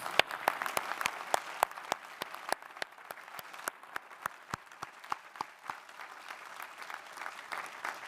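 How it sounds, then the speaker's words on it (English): Sparse, scattered hand clapping from an audience at a Harvard alumni reunion gathering, individual claps distinct and irregular rather than a full roar, moderately loud and steady throughout with no talking. "I hope you'll join me in a round of applause."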